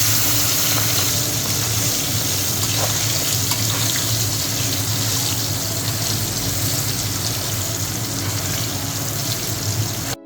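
Pieces of goat fat fry in a wok, giving off a loud, dense, unbroken sizzle and crackle that carries on evenly and close to the microphone.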